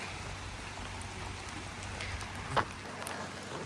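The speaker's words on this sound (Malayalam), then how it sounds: "നല്ല മഴയും പെയ്യുന്നുണ്ട്" Heavy rain falls steadily at Chooralmala in Kerala, a constant even hiss with one brief louder splash near the end and no talking.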